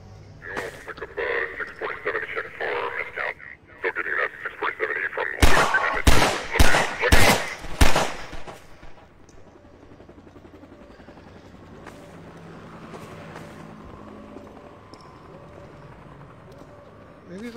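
Rapid bursts of loud gunfire crack out mid-clip in the Half-Life 2 VR game, surrounded by game noise and a player talking before and after.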